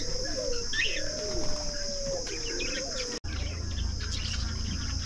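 Pigeons coo in low repeated calls while small birds chirp nearby at an animal petting farm, over a steady background hiss of insects.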